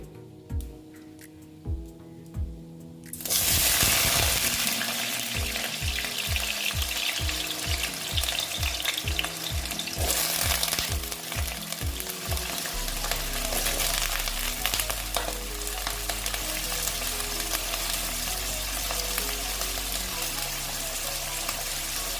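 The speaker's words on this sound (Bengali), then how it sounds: "আলুটা আমি ভেজে নিচ্ছি" Potato pieces drop into hot oil in a pan for a fish egg recipe and burst into loud, continuous frying, with a run of rhythmic stirring knocks and a steady hiss after a quiet start.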